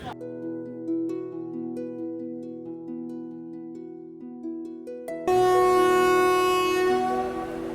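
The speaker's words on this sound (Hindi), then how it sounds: "और ये देखो सामने से कोई ट्रेन क्रॉस हो रही है, कोई फास्ट ट्रेन जो है वो क्रॉस हो रही है" A fast train passes on a forest rail line between Pilibhit and Mailani in India, with a long horn blast first, then a loud, close rush of wheels and carriages.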